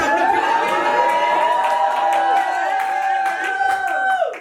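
A comedy-show audience cheers and whoops together, a sustained, bright crowd roar with scattered shouts that holds steady before tapering off at the end.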